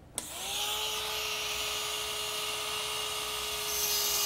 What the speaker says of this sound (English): I like to run the burr at medium speed